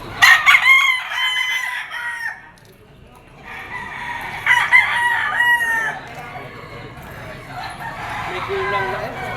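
A bull stag gamecock crows loudly and close at a rooster market, several long crows with pauses between them and other fowl clucking faintly behind.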